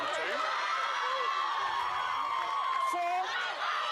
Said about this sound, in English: just how vocal the crowd is, making it hard to hear anything